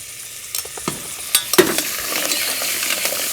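Steady sizzling and crackling of double-concentrate tomato paste frying in a pan, with a few scrapes and stirring knocks over the continuous hiss.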